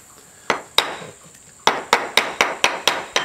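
A mallet drives a wood chisel to clear chips down to a cut line while making a wooden bowl vise. Two crisp knocks come first, then after a pause a steady run of seven sharp, evenly spaced strikes.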